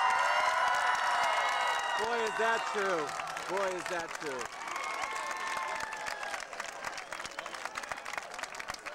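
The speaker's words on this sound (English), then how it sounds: "give them a round of well-deserved applause" Graduation audience applauding their parents at a ceremony, a dense wash of clapping and cheering that fills the hall throughout, with a voice speaking over it in the middle.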